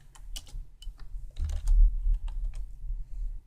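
Typing code on a computer keyboard, a steady run of close, crisp key clicks with irregular rhythm and a few louder strokes, no voice over it.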